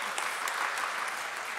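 Applause from an audience at the Windham County COSU launch event in Brattleboro, a steady wash of clapping hands for a short burst, fairly even and continuous with no voice over it.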